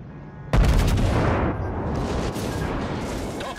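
A warship's main guns fire in World of Warships with one sudden, heavy boom that rolls out into a long, rumbling decay.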